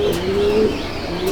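Pigeons in a loft in Garia, Kolkata, cooing steadily in a low, warbling drone that runs through the whole moment, with a brief higher chirp near the start and end.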